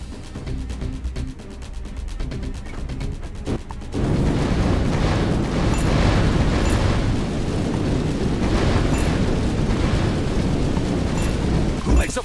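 A video game flamethrower starts with a sudden whoosh and then roars as a continuous, loud burning rush, after a few seconds of rapid clicking and bursts.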